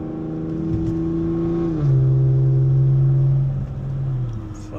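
A tuned car engine fitted with a 6870 turbo revs up with a steady, loud drone that rises in pitch, holds at a high whine and then eases back down, with no voices over it.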